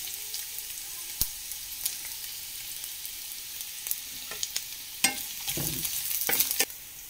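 Chopped vegetables for veg chowmein fry in oil, a soft sizzle under scattered scrapes and stirring clatters that grow busier toward the end, fairly quiet and close.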